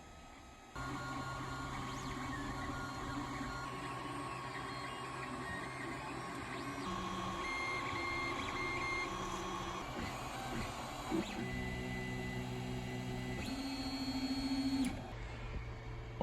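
A 3D printer runs a print job of a Legend of Zelda Master Sword, giving steady motor whine and shifting stepper tones that change pitch in stages over a low mechanical hum, moderately loud and continuous with no talking.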